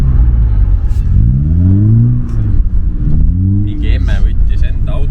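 A Mercedes drift car driven by a woman at a women's drift day, its engine rumbling and revving in rising and falling sweeps, loud and close, with brief higher noise toward the end.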